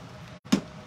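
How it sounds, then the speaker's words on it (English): A plastic spray bottle filled with tap water gives one short, sharp spritz, a quick hissy burst following a brief pause, close and fairly loud. "So I'm just going to take my spray bottle."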